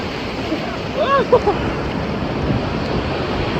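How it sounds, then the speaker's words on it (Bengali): Big sea waves roll and wash at Digha beach at night, a continuous broad rushing surf roar with wind buffeting the microphone and a brief muffled voice near the start. "ভাই ঢেউগুলো যে এত বড় বড় না কি বলবো"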